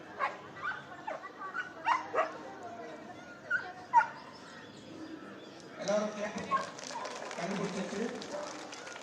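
Dogs at a summer festival dog show in Yercaud, including police sniffer dogs, give scattered short barks and yips at moderate distance, under a steady voice talking throughout.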